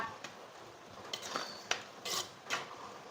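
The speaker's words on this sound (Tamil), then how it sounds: "இப்போ ஒரு டைம் நல்லா கிண்டி கொடுத்துக்கோங்க" A spoon stirring beetroot pachadi cooked with coconut paste in a pan, giving faint scraping strokes and a few soft metallic knocks against the pan.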